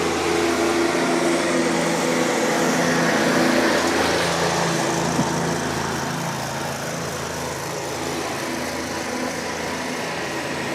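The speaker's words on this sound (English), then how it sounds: "not a four-cycle airplane engine either. That's a lawnmower." A lawnmower engine drones steadily and loudly nearby at an airport's edge, a constant buzzing whine that barely changes over the whole stretch.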